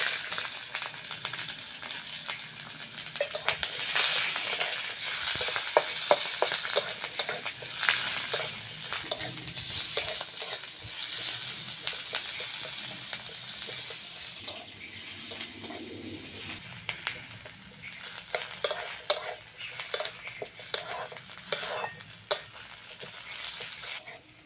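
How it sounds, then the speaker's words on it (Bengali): Garlic, onion, and green and dried chillies fry in oil in a kadai with a continuous bright sizzle and repeated stirring scrapes and clicks. A bird calls faintly in the background and no one speaks. "রসুন, পেঁয়াজ, কাঁচা লঙ্কা, শুকনো লঙ্কা ভালো করে ভেজে নিয়েছি।"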